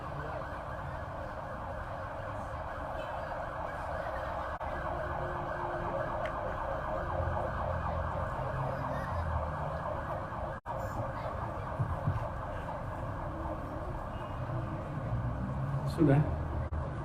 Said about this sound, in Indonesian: Ambulan ya?